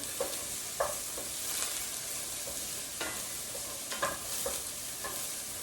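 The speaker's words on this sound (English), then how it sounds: "let's stir this a little bit more" Sweet potato hash with tomatoes being stirred in a pan, with soft repeated scraping strokes over a low, steady sizzle, close and moderately quiet with no talking.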